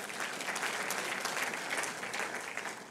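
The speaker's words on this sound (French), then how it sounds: "oui, on peut applaudir l'œuvre de Dieu" Applause from a church audience honouring a brother's healing during a gospel sermon: dense, steady clapping from many hands, moderately distant and sustained throughout with no voices on top.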